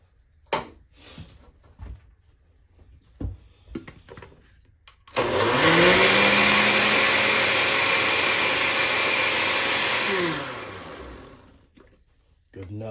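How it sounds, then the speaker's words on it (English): A kitchen blender runs with a little water to rinse out a pot of birria sauce, a loud steady whirring roar lasting about five seconds before winding down, preceded by clatter and brief talk. "Just to clean out my pot, my blender."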